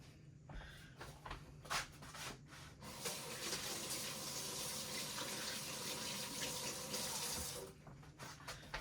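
A kitchen tap runs steadily into a sink to wet hands before shaping sourdough pizza dough, a continuous close gush of water, with brief handling clatter at the start and end.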